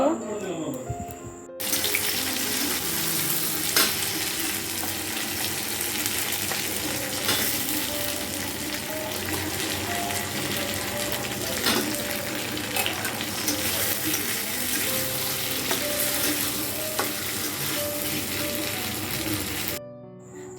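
Meat pieces sizzle in a hot pan after frying onions for biryani, a loud steady frying hiss with stirring scrapes throughout, beginning abruptly and cutting off at the end.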